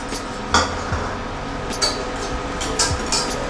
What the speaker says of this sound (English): So mix it up until all the butter is melted and combined with the caramel.